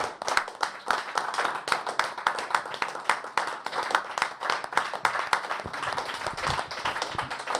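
A church congregation claps together in acclaim during a French-language sermon, a fast, lively run of sharp handclaps that continues steadily throughout, moderately loud with no talk over it.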